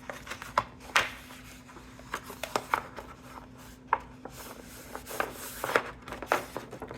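Paper for a card pocket is folded and creased, giving scattered soft taps, rustles and sharp crinkles at close range, with no talk.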